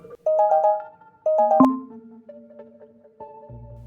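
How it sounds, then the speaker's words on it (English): A phone ringtone sounds for an incoming call, two bursts of a bright electronic melody with a sharp click between them, then lower sustained tones trailing off, close and clear with no talk. "that wasn't just a phone call"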